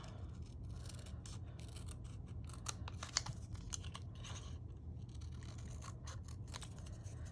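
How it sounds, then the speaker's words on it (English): Quiet, close crisp snips and crunchy rustling of scissors cutting paper, irregular and soft over a low background hum. "just with my scissors."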